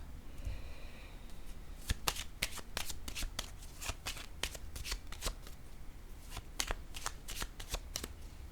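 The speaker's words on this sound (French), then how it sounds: "Attendez, je vais piger une carte ici encore." A deck of cards is shuffled up close in a tarot-style reading, producing a fast run of crisp riffling flicks, followed by a card being drawn. No voice is heard.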